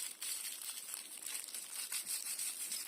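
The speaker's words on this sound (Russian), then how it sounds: "Теперь ножка и гремит, и шуршит." Crinkly material sewn inside a crocheted toy leg rustles and crackles continuously as the leg is squeezed, close and bright, with no voices.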